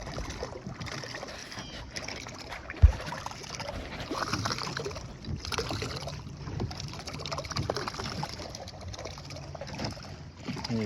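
Electric trolling motor pushing a kayak around in a circle on open water, a steady low hum and water wash running throughout, with one brief bump partway through.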